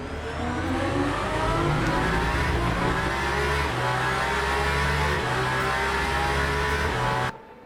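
Race car engine in the sim racing game Le Mans Ultimate, roaring steadily at high revs with shifting pitch, loud and close throughout, then cutting off abruptly near the end.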